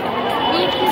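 A dense crowd mills around the Ahmedabad riverfront flower show, its steady chatter forming one continuous, fairly loud babble of many voices that never lets up.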